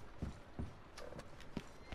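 A horse's hooves in Red Dead Redemption 2 clop in a brief, uneven series of soft, faint thuds with light clatter between them.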